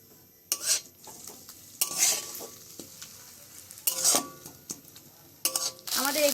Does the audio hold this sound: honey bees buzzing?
no